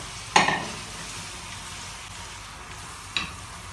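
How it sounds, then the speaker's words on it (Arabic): Tomatoes and lamb stirred together in a pot for Saudi kabsa: a low sizzle throughout, broken by two sharp scraping clinks of a spoon against the pot, the first louder. "هنزل بالطماطم، هقلب كل المكونات دي مع بعض كده."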